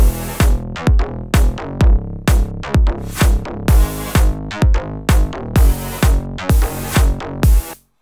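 A loud electronic synth drop made in GarageBand loops steadily, punchy bass thumps with bright synth stabs repeating in an even, bouncing pattern, cutting off abruptly at the end.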